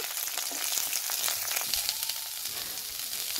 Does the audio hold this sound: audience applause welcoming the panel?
no